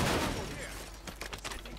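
Sniper rifle shots in an online multiplayer shooter, a few sharp cracks in the second half over ongoing game noise and background sound.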